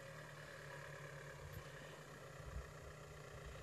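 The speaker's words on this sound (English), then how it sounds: "So that's Amanda in her tractor" Tractor working in farm gardens, its engine running in a low, steady drone that sounds somewhat distant and faint, with no voices over it.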